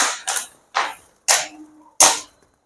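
Pencil firecrackers from Sivakasi explode as four sharp, loud cracks spaced about half a second apart, each snapping off quickly into silence.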